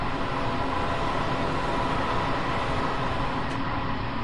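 A train running in the LIRR train simulator game by Dovetail Games, a steady loud rumble and roar with no break or change across the short stretch.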